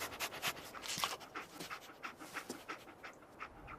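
Rapid, breathy panting from Dogmeat, the dog companion in the video game Fallout 4, a steady run of close huffs with no talk over them.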